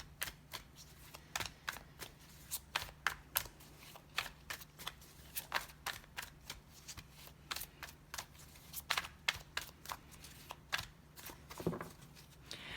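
A deck of tarot cards is shuffled over and over, close and fairly quiet. Crisp riffles and flicks come in an uneven rhythm. A low steady hum runs underneath and there is no talk.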